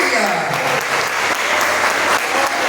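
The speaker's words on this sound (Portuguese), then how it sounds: "Agora eu te convido a dar a mais forte salva de palmas ao Senhor Jesus." A church congregation gives loud, sustained applause during a sermon, a dense wash of many hands clapping steadily for several seconds.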